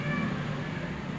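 A Persian mix cat gives a single drawn-out meow, close and fairly clear, against faint room noise with no talking.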